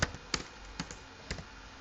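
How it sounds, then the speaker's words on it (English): Keystrokes on a computer keyboard as a command is typed into a command prompt, four or five sharp, separate taps spaced irregularly, close and quiet with no talk. "in the command prompt type pip"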